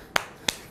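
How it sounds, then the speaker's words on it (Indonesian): A weak, half-hearted hand clap from a church preacher, two sharp light claps about a third of a second apart, close and dry with no talk over them. "tapi kau tepuk tangannya gini"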